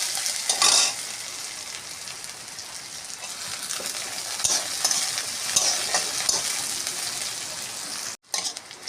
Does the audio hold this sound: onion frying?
yes